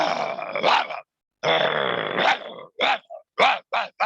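A man in a yoga session voices a dog, starting with long rough throaty growls and moving into a series of short, sharp imitated barks, close and fairly loud.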